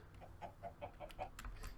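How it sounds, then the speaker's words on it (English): Soft, rhythmic clucking from a chicken in a video game, a string of short repeated clucks at low volume with faint background noise. "There's another chicken up here."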